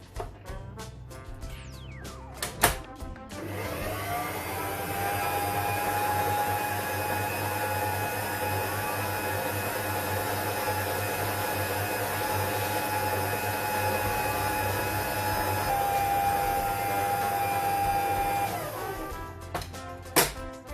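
An electric mixer beats coconut cake batter in one steady, sustained whir for about fifteen seconds, close and alone, with clicks as it starts and stops.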